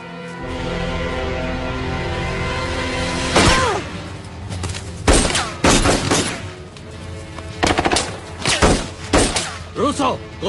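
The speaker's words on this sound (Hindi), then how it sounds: "गोली चलाना बंद करो, रुसो।" Gunfire in a dubbed adventure movie: a burst of sharp, loud shots and impacts, several in quick succession then scattered single cracks, close and punchy over a tense background.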